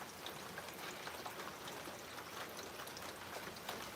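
Steady rain falls outdoors, a dense even patter of drops hitting surfaces, constant and moderately loud across the whole stretch with no voices.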